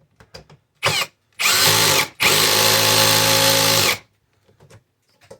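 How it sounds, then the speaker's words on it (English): A brushless impact screwdriver drives a screw into a refrigerator door handle, firing in three loud, close bursts: a brief one, then two longer sustained whirring runs with a gritty hammering texture, and faint clicks between them. "This is a brushless screwdriver, so kind of acts like a hammer."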